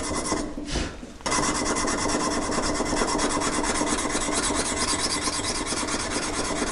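A knife blade is hand-sanded with 320 grit abrasive in steady strokes, one zone at a time. The rasping scrape is close and continuous, with a brief softer lull near the start before it carries on evenly with no talking.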